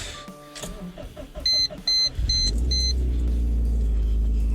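Subaru engine fitted with a Tomei exhaust starts up on a freezing day, a few electronic beeps and whirs giving way to a loud, steady low idle rumble close by.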